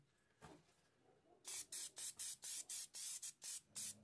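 An airbrush fed by a quiet budget DIY compressor sprays in a rapid series of short, loud hissing bursts with brief gaps, after a faint earlier puff.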